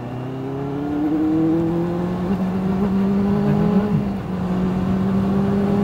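Benelli motorcycle, an Imperiale 400 or TNT 600, riding along with a steady engine drone and rising, shifting tones as it accelerates, loud and close throughout with wind rush.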